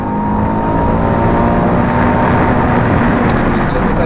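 A 2007 Subaru Impreza 2.0 with the 160 hp EJ204 engine revs hard toward 7,500 rpm on a race track, a loud, steady, continuous engine drone with rising harmonics and no talk over it.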